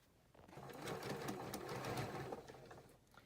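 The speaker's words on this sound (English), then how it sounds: "we're going to sew down here" A sewing machine stitches two layered fabric pieces together in a steady, continuous whirring run, close and fairly loud, starting after a brief quiet moment and easing off near the end.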